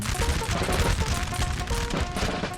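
Crackling musket volleys from infantry lines in the Napoleon Total War video game, Borodino 1812 battle, rippling as a continuous rattle of shots over a low rumble, fairly distant and without pause.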